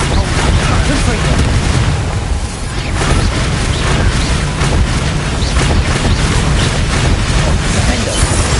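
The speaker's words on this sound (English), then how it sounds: "Confringo!" Loud fiery blasts and booms from the Confringo explosion spell during combat in the Hogwarts Legacy video game on PS5, a dense, continuous roar of spell effects and battle noise.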